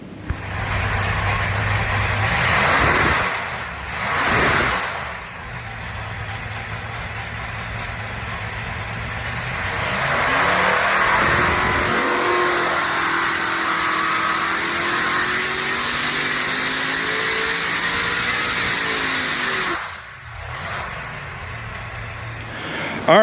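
An all-aluminum 572 HEMI engine runs on a dyno with a loud, sustained roar that swells and rises in pitch as it revs. It dips briefly twice early on and cuts near the end.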